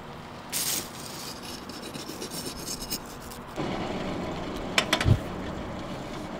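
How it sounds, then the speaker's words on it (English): A metal file rasps along the jagged edge of a hand-forged steel spoon blank, giving a brief scrape early on and then a longer run of steady rubbing strokes, close and fairly quiet. "So now I get to clean up the jagged edge with a file here"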